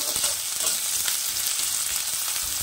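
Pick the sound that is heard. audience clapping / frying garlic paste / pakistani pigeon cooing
frying garlic paste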